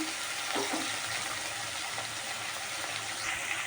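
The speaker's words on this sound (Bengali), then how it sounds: "আলু দিয়ে দিলাম আলুটা কিন্তু এবার একটু ভাজা হবে" Soft, steady sizzling of potatoes frying in a pan, with a light clink or two early on; continuous and fairly quiet.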